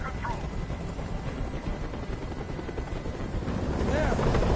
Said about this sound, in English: I can't stand that noise anymore. Tell that helicopter to get out of here.